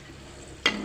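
Nuts and peas fry in hot oil for Kerala mixture, a low steady sizzle that jumps into a brief loud crackle near the end as more is stirred in.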